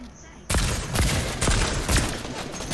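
Sniper shots ring out in a Fortnite Battle Royale match: a sudden string of four or five sharp, loud cracks spaced about half a second apart after a quieter start.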